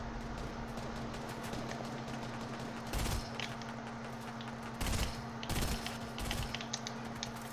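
Short bursts of automatic gunfire from a shooter video game, three or four rattling volleys at about three, five, and six seconds over a quiet humming background.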